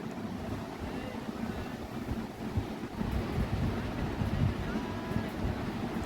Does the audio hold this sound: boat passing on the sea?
yes